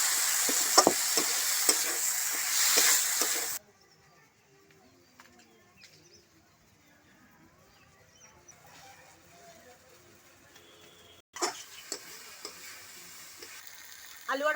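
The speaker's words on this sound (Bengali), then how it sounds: "এবার আলু কুচিগুলো মশলার মধ্যে দিয়ে দিলাম, এইভাবে আরো 2-3 মিনিট ধরে কষিয়ে নেব" Diced potatoes fry in a spice masala in a pan, giving off a loud sizzle while being stirred. After a quiet stretch with faint birds cooing in the background, the frying comes back strongly.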